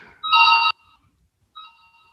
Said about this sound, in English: Oh, I hear ringing. Yeah, she's getting a call.